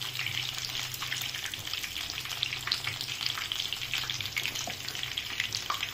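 Potatoes frying in oil while cooking crispy cauliflower: a steady, dense sizzle with fine crackles and pops, close and continuous throughout, no speech.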